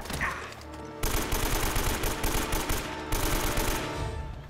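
Machine gun fire rattles through a firefight in the video game Uncharted: Drake's Fortune, with dense rapid bursts that start around one second in and carry on almost without pause, growing louder again near the three-second mark.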